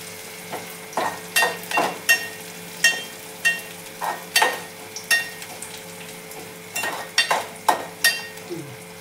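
Onion frying in a pan for a Marathi-style tempering, part of a dry fish dish: a soft background sizzle broken by a steady run of scraping stirring strokes, alone and close.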